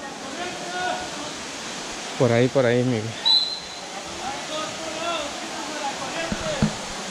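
A river in the Huasteca Potosina rushes with a steady broadband wash of flowing water, heard throughout beneath brief close talk and an exclamation from the group.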